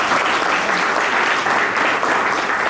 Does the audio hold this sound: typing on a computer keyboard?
no